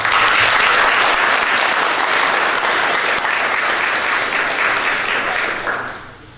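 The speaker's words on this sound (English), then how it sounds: "we should give them a round of applause" A crowd applauds steadily and loudly for several seconds, then the clapping thins out and fades near the end.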